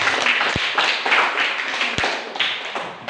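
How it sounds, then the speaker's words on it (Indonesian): A classroom of students claps hands together in a dense, lively burst of applause with a couple of sharper taps standing out, loud and close, with no talking. "Tepuk tangan dulu untuk."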